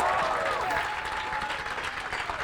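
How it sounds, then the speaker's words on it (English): An audience at a live stage performance breaks into applause, a dense wash of clapping that starts loud and tapers slightly over a couple of seconds, close and filling the room. "let's have a round of applause for Brett running sound for us over there."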